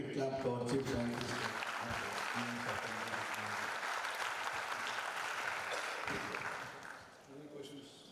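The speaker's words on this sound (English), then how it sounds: "I request all participants give a big clap to our chief scientist" A conference audience claps and applauds steadily for several seconds, tapering off toward the end, with talk heard over and after the clapping.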